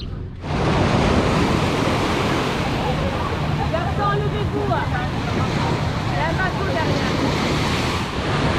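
Sea waves wash steadily onto Marina Smir beach near Tetouan, Morocco, a loud, continuous broadband surf with wind buffeting the microphone throughout.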